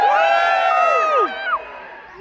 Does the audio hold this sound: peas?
no